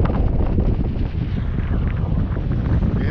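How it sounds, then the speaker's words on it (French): Strong wind of about 25 knots buffets a boat lying at anchor off Varkiza, a loud continuous roar and gusting rumble pressing on the microphone, with no talk. "c'est donc qu'effectivement il y a du vent"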